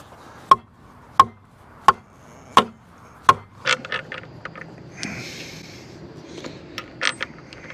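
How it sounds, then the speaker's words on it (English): Five sharp, evenly spaced knocks of a hammer striking wood, followed by softer scattered taps and scraping. "Had to find me a field hammer."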